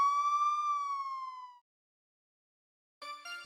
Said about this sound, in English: the sounds of sirens grows louder